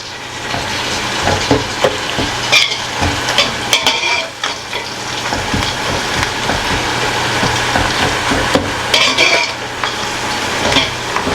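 Ginger garlic paste sizzles steadily in hot oil for a chicken dum biryani, with a continuous loud crackle and intermittent scraping as it is stirred around the pan.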